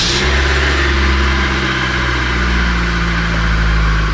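A car engine cranks, catches and runs with a steady rev, loud and close throughout with no voices, after a knock-sensor fault was cleared and the battery had been disconnected.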